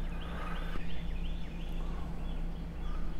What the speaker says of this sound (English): Lots of birds of all kinds singing.